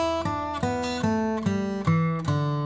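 Acoustic guitar played in a blues style in E, with a sequence of strummed or plucked notes and chords ringing out one after another with clear attacks, near and alone with no talking.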